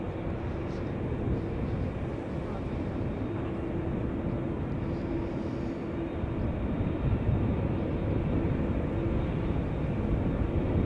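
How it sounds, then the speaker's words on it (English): A DHL Boeing 767-300 idling on the ground at Amsterdam Schiphol Airport, a steady broad jet-engine roar with a faint whine, continuous and even at moderate distance, no voices. "DHL Boeing 767-300 has come alive, which is going to London Luton"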